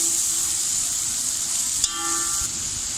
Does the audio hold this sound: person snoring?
no